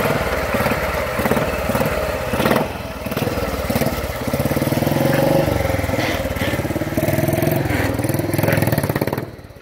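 A motorcycle engine fires up on a rolling road starter with a one-way clutch and keeps running, a loud, close, steady chugging idle with a pulsing rhythm and slight revs, and brief talk underneath.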